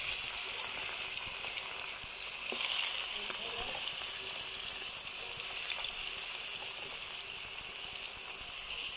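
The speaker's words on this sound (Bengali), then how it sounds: "এখন আমি মাছটা আস্তে আস্তে দিয়ে ভেজে নেব।" Fish pieces fried in hot oil in a pan on a stove give a steady, fairly quiet hiss and sizzle that runs throughout without talk.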